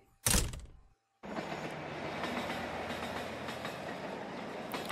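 A train riding on rails in the Traumfänger video game: a loud thunk, a brief silence, then a steady, continuous rumble of the carriage rolling along the track.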